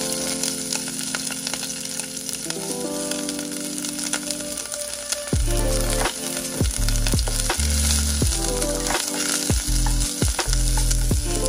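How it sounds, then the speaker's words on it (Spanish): Onion and chile fry in a little oil with a loud, crackling sizzle and occasional stirring knocks, over steady background music. "Vamos a empezar sofriendo nuestra cebolla y nuestro chile"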